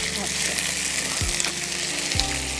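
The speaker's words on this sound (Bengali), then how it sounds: "এবারে এটা কি ফ্রাই হবে? হালকা এটা সতে হবে।" Chicken pieces sautéed lightly in a pan for murg chatniwale, giving a steady close sizzle with two brief scraping stirs, and no talk over it.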